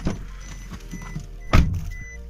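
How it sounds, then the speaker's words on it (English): A 2019 Maruti Suzuki Wagon R door shuts with a light, tinny thud, one sharp close preceded by a few quieter clicks and handling sounds. "that was the door sound"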